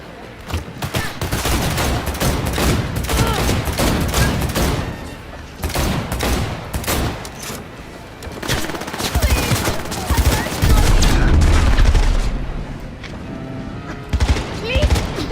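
Rapid bursts of gunfire in a Cyberpunk 2077 shootout crackle nearly nonstop, dense overlapping shots and booms, loud and close, with someone talking over the fight.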